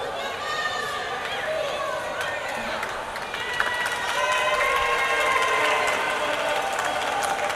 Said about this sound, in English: Crowd getting a little bit excited there